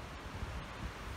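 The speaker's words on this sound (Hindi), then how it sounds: "थोड़ी बहुत हवा चल रही है" Steady wind blows outdoors near a waterfall at Tiger Falls in Chakrata, a soft continuous broadband rush with gentle gusts and no voices.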